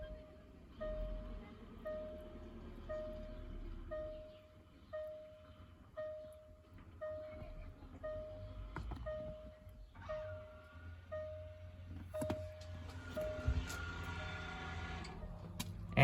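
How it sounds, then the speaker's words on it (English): An electric parking brake on a 2012 Range Rover Sport SDV6 enters service mode during a rear brake disc change. A steady series of evenly spaced beeps sounds alongside a low whirring motor hum and a few clicks, with faint talk nearby. "that prolonged noise, which confirms that we've put our parking brake into the service mode"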